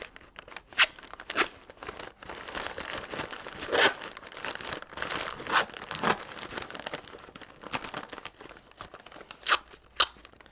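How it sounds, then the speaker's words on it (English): Paper tape and paper being handled while space junk props are put together, giving repeated close crinkling and crumpling rustles with sharp tape-tearing bursts at irregular intervals, no voices. "And then just secure it with bits of tape."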